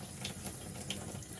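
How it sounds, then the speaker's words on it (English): Tap water running steadily into a sink to wet the face before shaving, a continuous close hiss and splash with faint patters from the hands. "Let's wet the face with cold water."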